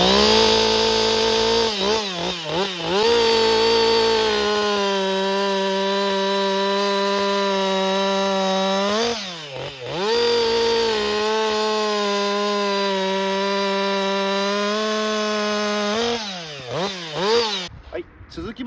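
An old Husqvarna 560XP chainsaw running a .325 1.5mm C35 chain saws through a log, its engine rising to a loud, sustained cutting drone in two long passes with short revving dips between, close up.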